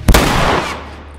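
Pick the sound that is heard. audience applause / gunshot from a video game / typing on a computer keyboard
gunshot from a video game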